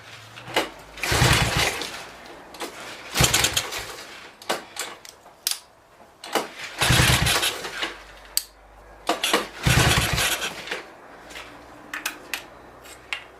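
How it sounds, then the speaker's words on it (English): A Honda three-wheeler engine is cranked over and over in short, loud bursts with pauses between them. It sputters but never settles into a steady run, and clinks and handling noises fall between the attempts. "this thing should not be this hard to start"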